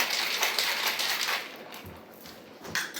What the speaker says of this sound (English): I'm gonna shake it up for about maybe 20 seconds.